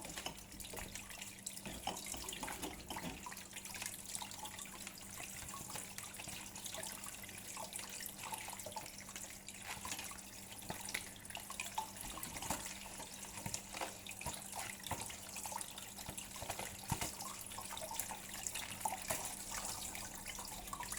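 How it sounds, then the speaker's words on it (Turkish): Water runs steadily from a kitchen tap while potatoes are washed for homemade crisps, a continuous close splashing stream with small irregular splatters and drips, with no talking. "önce patateslerimizin iyice yıkamamız gerekiyor"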